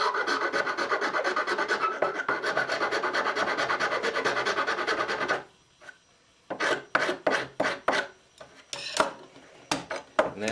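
A file rasps across a wooden instrument bridge in fast, steady close strokes for several seconds, then a pause followed by a series of separate, sharper scraping strokes.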